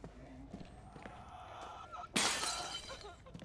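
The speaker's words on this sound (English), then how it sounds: "What was that smashing noise?" A sudden loud smash like breaking glass bursts out in The Outlast Trials horror game, ringing on for a second over a low ambient game background.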